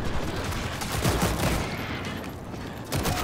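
Gunfire in the zombie shooter game World War Z, a dense continuous fusillade of rapid shots layered with mechanical clatter, loud and close, briefly thinning before a final burst.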